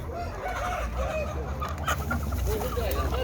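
Roosters and hens at a poultry market, repeated clucking and crowing calls over a busy background murmur, moderately close and fairly steady.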